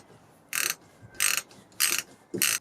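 A hand ratchet tightens a bolt on the exhaust of a VW T25 Vanagon, giving four short, crisp clicking bursts spaced about half a second apart, close by and with no talk.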